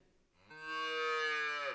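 A single long cow moo rises and holds for over a second, loud, close and tonal against a quiet background with no talking.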